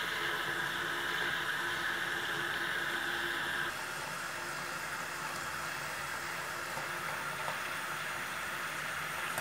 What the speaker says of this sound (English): fill it up with hot soapy water